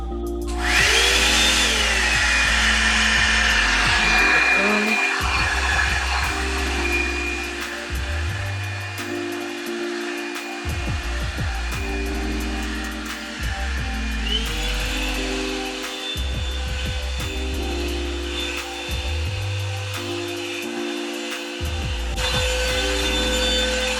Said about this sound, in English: So there's the first section blow dried.